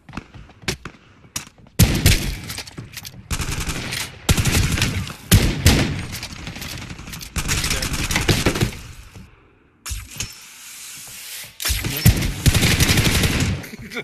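Video game gunfire crackles in repeated loud bursts and rapid volleys, close and harsh, with brief pauses between the strings of shots.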